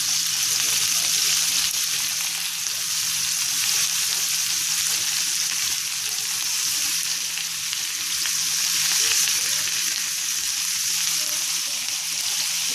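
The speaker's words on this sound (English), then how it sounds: "So the meatballs are cooking pretty well." Meatballs for Mexican albondigas soup fry in a pan with a steady, loud, close sizzle that holds for the whole stretch, with no voices over it.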